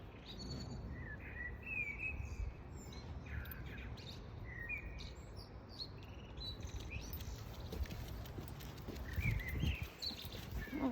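Birds chirp and sing outdoors in short, bright calls scattered over a steady, faint background wash, with no talking.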